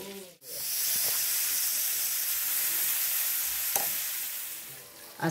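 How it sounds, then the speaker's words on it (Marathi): Spiced, masala-coated paneer roasting in butter in a hot pan gives a steady, loud sizzle and hiss that runs almost unbroken, with a couple of brief clinks of stirring. "हे ब्राऊन होईपर्यंत भाजून घ्यायचं पनीर."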